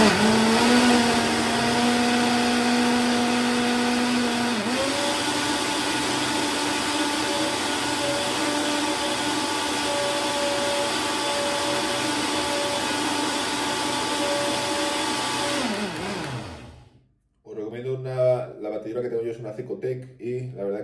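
A Cecotec blender whirs steadily as it mixes a protein powder shake, a loud close motor drone whose pitch steps up partway through, then winds down and stops, followed by a short stretch of talking.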